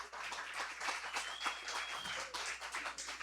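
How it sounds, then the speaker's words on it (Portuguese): An audience at an event applauds to welcome the hosts, a faint, steady patter of many hands clapping that continues evenly throughout. "Uma salva de palmas para a gente saudar a casa."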